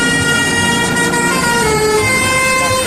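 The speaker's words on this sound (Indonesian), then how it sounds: "Wadidaw, ada bus telolet." A bus telolet horn plays a loud, sustained multi-tone melodic honk with stacked tones gliding slightly, close and continuous over the whole moment.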